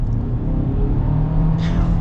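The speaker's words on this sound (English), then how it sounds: "that turbo engine punches" A 2023 Chevy Blazer Premier's turbo engine accelerates in sport mode with all-wheel drive, a steady low rumble filling the cabin with a brief rise in pitch near the end, heard alone without talk.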